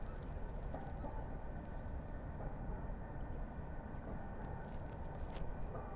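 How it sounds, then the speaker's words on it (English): A heavy goods train rumbles in the distance near a wetland path at sunrise, a faint continuous low drone with no voices. "It sounds like a heavy goods train coming in behind us."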